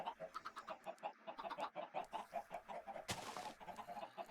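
A dense flock of chickens in a block-building video game clucking in a steady rapid chorus, many overlapping calls pulsing rhythmically, with a short burst of noise partway through.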